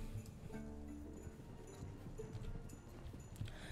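Hoofbeats of a Tennessee Walker being ridden in Star Stable Online, a steady clip-clop gait that runs close and continuous over game music and ambience, with no talk.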